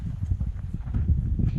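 Horse hooves thud in a soft, uneven clip-clop at a ranch stable with stalls, close and low, alongside light shuffling and no speech.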